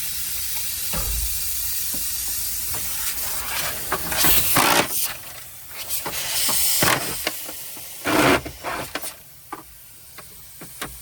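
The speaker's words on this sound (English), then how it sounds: "You take them out, the air is gonna come up" Compressed air escapes from the air lines of a Sterling truck in repeated bursts of loud hiss, some short and some sustained, with brief clicks between them and no talking.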